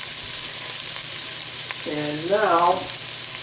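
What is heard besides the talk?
tomato product cooking with beef in a pan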